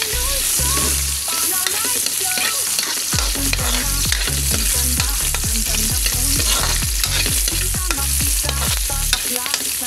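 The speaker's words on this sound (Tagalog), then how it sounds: "Sibuyas yan. Papulahin na natin." Onions fry in hot oil in a pan for a native-chicken adobo, sizzling loudly and steadily, with a quick run of rhythmic stirring and scraping strokes close up.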